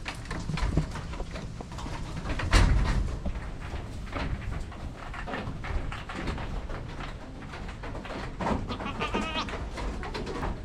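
Full-blood Boer goats penned on a farm in Batangas, bleating in a busy mix of calls with other animal and bird sounds in the background and no talk, one louder close cry standing out.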